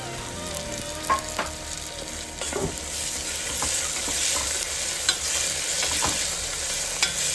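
Onion, tomato, garlic and green chilli sautéing in a pan for banana stem koottu, a continuous sizzle with occasional stirring scrapes and clinks, close and steady, no voices.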